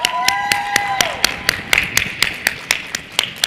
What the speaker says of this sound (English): let's get some hand claps going